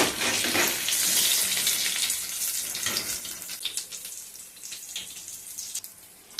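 Batter-coated chilli bajjis deep frying in a pan of oil, a dense bubbling sizzle that is loud at first and gradually thins to a softer crackle with scattered pops.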